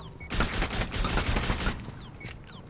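Rapid gunfire in the video game Rainbow Six Extraction, a dense burst of repeated shots lasting a couple of seconds and fading at the end, loud and up close with no talk over it.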